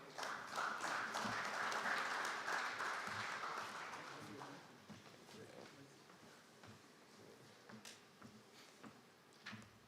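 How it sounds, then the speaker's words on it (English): An audience at an agriculture conference applauds a speaker with a dense burst of clapping that swells for a few seconds, then thins into scattered claps and fades out. "a resounding round of applause for Engineer Jerry Cunningham"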